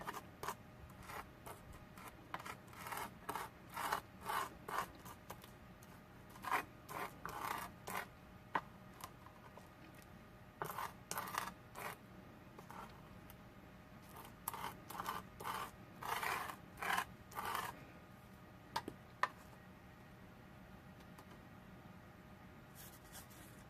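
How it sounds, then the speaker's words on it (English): A small tool presses glitter into tape on a pizza box, making soft, irregular scratching and tapping strokes in clusters, close and fairly quiet. "I'm just going to take a little tool here just to help push into all that tape."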